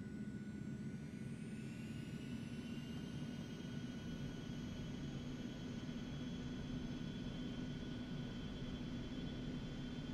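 A simulated airliner's jet engines in X-Plane 11 spool up as it begins taxiing, a steady roar with a low rumble and a rising whine that climbs and then holds, quiet and continuous.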